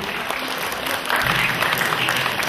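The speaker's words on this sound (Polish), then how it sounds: "Brawa jeszcze raz, Dani." Audience applause at a Shinkyokushin karate championship award ceremony, steady loud clapping that grows denser and stronger partway through, with faint voices mixed beneath.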